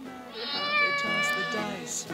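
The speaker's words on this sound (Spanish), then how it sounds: "Es un dinosaurio que dice miau." A cartoon dinosaur in an animation lets out a single drawn-out, cat-like meow, clear and close, lasting about two seconds.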